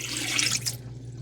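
Dirty water from the tank of a Narwal robot mop, sloshing and running like a tap into a sink for about a second before it quickly tapers off, with a low steady hum underneath.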